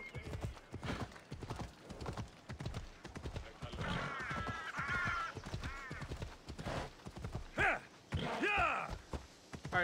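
Hooves clip-clop rhythmically on hard ground as a horse in a video game set around an amphitheater moves along, with a couple of whinnies breaking in near the end.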